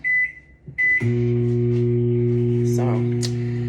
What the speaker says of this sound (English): So I'm gonna warm this up a little bit more in the microwave